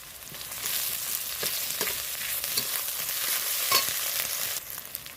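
Chopped onion frying with ginger and garlic in a pan, a steady close sizzle with soft stirring scrapes throughout.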